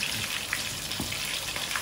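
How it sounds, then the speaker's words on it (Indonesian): A pot of water at a rolling boil on the stove while cooking Betawi-style pecak pomfret fish, giving a steady, close bubbling and hissing wash with no talk over it. "Nah, ini air mendidih ya."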